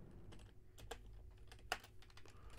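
A computer keyboard is typed on nearby in a few quick, scattered keystrokes with brief gaps, fairly quiet and with no one speaking.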